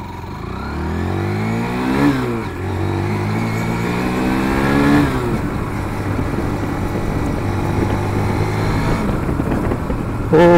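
A Hero Xtreme 160R 4V motorcycle engine fires up and revs close by, its pitch climbing and falling in repeated swells before settling into a steady, loud run.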